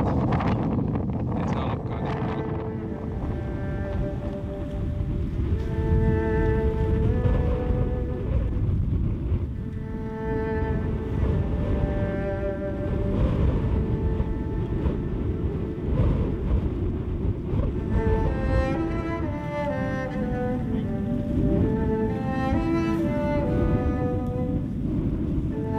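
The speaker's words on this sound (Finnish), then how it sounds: "täällä tuli tällaista myräkkää ja kovaa läntistä tuulta ja huonoa säätä." Strong westerly wind storm on a multi-day ski trek around Kebnekaise buffets the microphone with loud, continuous roaring gusts, while tonal whistling layers rise and fall through the stretch.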